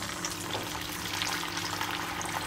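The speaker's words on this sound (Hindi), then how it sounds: "अब तेल हमारा गरम हो गया, अच्छे से गरम हो गया। अब हम इसमें कोफ्ता डाल देंगे एक एक" Potato malai kofta frying in hot vegetable oil, a dense, even crackling sizzle that stays loud and close throughout without any talk.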